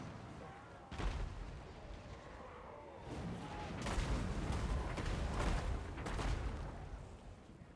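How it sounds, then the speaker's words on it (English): Volleys of crossbows firing in the fantasy battle game Total War: Warhammer 2, a dense crackle of many bolts loosed at once in overlapping waves, mid-distance and fairly loud, with battle noise and some voices mixed in. "Listen to all those crossbows just firing off."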